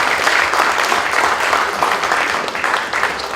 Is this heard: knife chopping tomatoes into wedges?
no